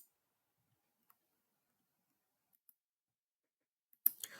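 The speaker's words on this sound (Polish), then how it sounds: "Klikam Wybierz i klikam przycisk Zmiana statusu przyłączenia PP." Several sparse, faint mouse clicks on a software form button, spaced seconds apart in near silence, with a brief burst of other noise at the end.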